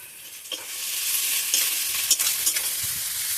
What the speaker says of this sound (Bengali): এটা লাল লাল করে ভেজে নেই।